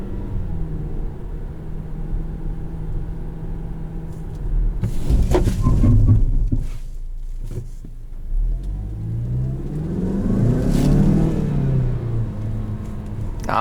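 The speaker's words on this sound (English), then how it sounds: "So we'll get it up to 30 and do a brake test." A 2019 Mazda CX-5 Turbo SUV accelerates toward 30 mph for a brake test, its engine rising in pitch and a loud whooshing surge of road and engine noise heard from inside the cabin.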